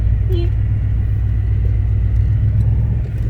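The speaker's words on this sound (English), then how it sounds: "Give it a little bit of gas as I come off the clutch." A manual stick-shift car eases away slowly from a stop, its engine giving a steady, loud low rumble that holds even throughout.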